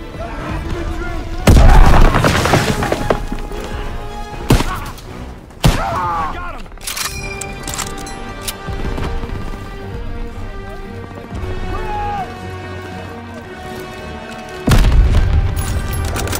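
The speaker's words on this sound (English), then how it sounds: "Grenade!" Grenade and artillery explosions in the Call of Duty WW2 Normandy D-Day battle: several loud, deep booms with gunfire and shouted voices between them, the heaviest blasts near the start and near the end.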